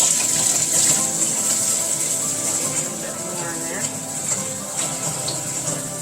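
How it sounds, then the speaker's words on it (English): Tap water runs onto bleach in a water filtration system's filter, a steady close hiss and splash that holds throughout while a voice speaks briefly over it. "I'm going to run some water on top of that bleach."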